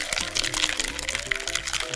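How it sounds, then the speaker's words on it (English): A Mai Tai cocktail being poured into a glass, a brief splashy liquid pour heard close and loud with a voice talking alongside it. "All right, so now we pour that in."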